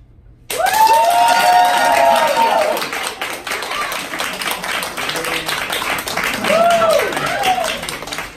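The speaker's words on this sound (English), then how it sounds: "please applaud vociferously" A courtroom jury bursts into loud, sustained clapping and cheering, with shouted voices rising over it before the applause gradually thins.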